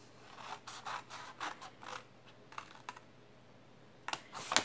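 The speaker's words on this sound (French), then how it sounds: "Je vais couper le long du pli" Scissors cutting paper along a fold while making an Easter basket: a series of soft, close snips and scraping strokes against a faint steady hum, with no talk.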